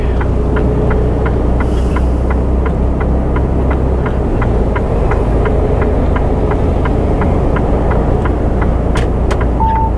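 Steady, loud road noise from inside a moving car on a French road, a constant engine drone and tyre rumble with an even ticking like an indicator, continuing throughout without speech.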